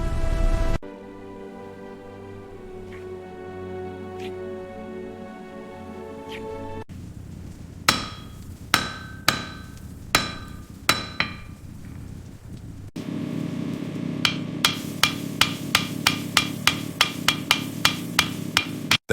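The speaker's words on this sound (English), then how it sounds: "The hammer fell, iron sang." Hammer blows ring on hot iron at a forge, sharp metallic strikes in a steady rhythm, first spaced about a second apart and then quicker and denser. A low, sustained hum sits underneath.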